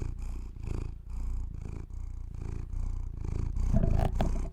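A red cat purrs close up, a loud, rhythmic rumbling with repeated inhale and exhale pulses at a steady pace, heard alone without talk.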